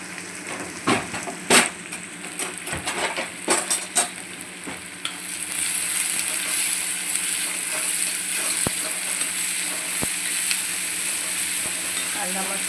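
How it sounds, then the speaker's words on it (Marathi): Onion with salt stirred in a hot pan, scraping and clattering at first, then settling into a steady, loud sizzle of frying that runs on alone. "कांदा मस्त असा लालसर करून घ्यायचा आपल्याला।"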